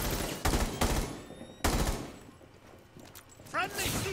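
Gunfire from a teammate rattles in Rainbow Six Siege, two loud bursts of rapid shots then a third shorter burst, with a voice speaking briefly between them.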